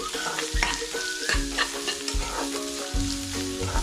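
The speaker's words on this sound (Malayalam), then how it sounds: "നമ്മൾ ചെറുതായിട്ട് അരിഞ്ഞു വെച്ച സവാള ആഡ് ചെയ്തു" Chopped onions sizzle and fry in a pan for chicken cutlets, with steady crackling broken by repeated stirring scrapes and spoon knocks, close and fairly loud.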